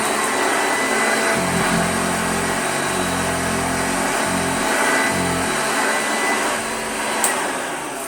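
A restored 1969 Hoover Junior 1346 Mk2 upright vacuum cleaner runs on a stiff rug, giving a steady, loud motor whine and airflow roar that shifts in pitch and load a few times as it works.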